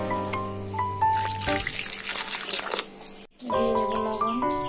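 Water trickles and pours into a pan of fried potato and pointed gourd curry for a vegetarian home-cooked dish, a brief close splashing stream between kitchen clatter and a short silent gap.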